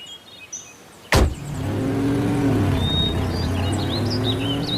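A cartoon car from Tobots driving along with a sharp thump and a steady engine hum that follows, joined by faint chirping tones overhead.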